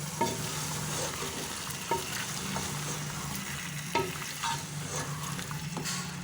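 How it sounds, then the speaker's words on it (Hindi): Potatoes and cauliflower are stirred through a frying curry in hot oil, a constant low sizzle broken by several sharp spoon scrapes against the pan, close and unaccompanied by speech. "और आलू डालेंगे और इनको अच्छी तरह से मिक्स करेंगे।"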